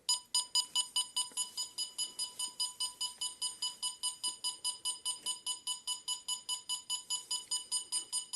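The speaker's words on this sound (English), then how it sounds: "I'm going to enable the alarm and then enter the passcode before the detection period is up" A home alarm system being armed sounds a steady string of sharp, evenly spaced electronic beeps, several per second, repeating close by for the whole stretch.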